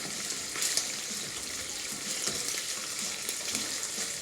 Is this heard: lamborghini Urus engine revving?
no